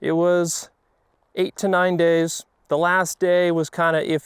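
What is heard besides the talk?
No distinct noise like a dog, phone or traffic.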